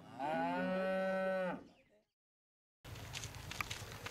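Cattle in Kenya low loudly in one long, sustained moo lasting over a second, followed by silence and then a patch of outdoor background noise.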